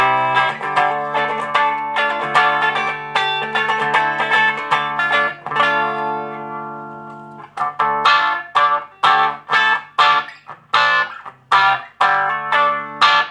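Distorted electric guitar chords played through a pedal, first sustained and ringing, then a run of sharp, punchy strummed hits with a gritty, saturated tone.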